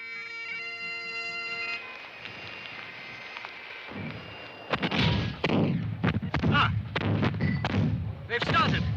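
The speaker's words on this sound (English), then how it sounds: "The rebel cannon have opened fire." Cannon fire at a Culloden battle reenactment: a ringing tone fades, then a series of heavy booming blasts follows, some rolling into each other, loud and near, with voices faintly underneath.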